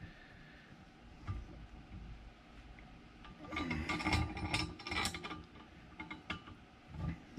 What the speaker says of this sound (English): So I'm going to back this nut back off here.